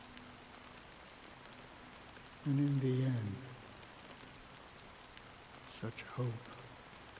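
Steady rain falls in a scene from the video game Honkai Star Rail, a soft, even hiss throughout, while a voice speaks briefly over it midway and again near the end.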